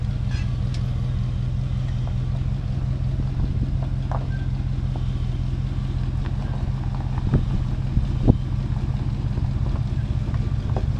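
A 1967 Chevy C10 pickup's engine idles steadily nearby, a continuous low rumble with faint clicks and knocks over it and no talk.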